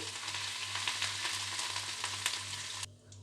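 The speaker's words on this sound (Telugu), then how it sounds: "ఇప్పుడు ఇందులోనే కొద్దిగా కరివేపాకు కూడా వేసుకుందాము. వేసుకొని కొద్దిగా ఫ్రై చేసుకోవాలి." Curry leaves and asafoetida fry in a pan with a dense, steady sizzle and crackle that cuts off sharply near the end, with a low hum beneath.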